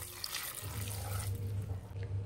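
A glass of water is poured into a cooking pot while making basale marwai, a brief close splashing and gurgling flow that settles into a steady trickle.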